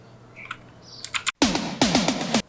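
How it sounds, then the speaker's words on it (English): Mechanical keyboard being typed on in a sound test, a quick burst of sharp, close clacky keystrokes following a few lighter taps. "here is a beautiful sound typing test of my keyboard for your"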